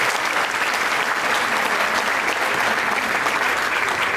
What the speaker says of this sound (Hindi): एक बार जोरदार तालियां बजा के मैं उनका स्वागत करूँ